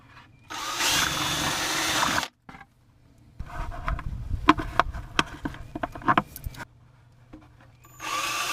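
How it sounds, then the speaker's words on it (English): A power drill bores holes through plastic buckets while a DIY rotating composter is built: a close, whirring burst of drilling, a short pause, then rattling, clicking handling noises and a second drill run starting at the end. "drill the first two holes to connect them"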